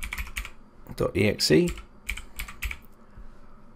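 Rapid keystrokes on a computer keyboard as program names are entered to block them from running, close and clear, in quick irregular bursts with no talking.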